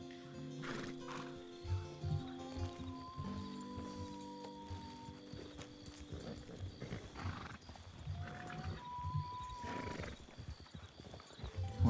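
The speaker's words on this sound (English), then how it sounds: "Horse." Horse hooves clip-clop steadily with occasional whinnies in a Red Dead roleplay game on RedM, a Western setting with ambient music tones and scattered voices underneath.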